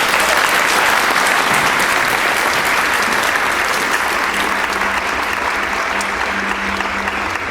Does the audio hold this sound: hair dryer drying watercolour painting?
no